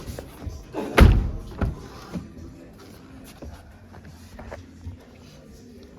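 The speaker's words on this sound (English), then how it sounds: "Close the door, open the door." The door of a Dodge Charger slams shut with one solid thump, followed by a softer second knock and a few light handling taps and shuffles afterward, close by with no talk.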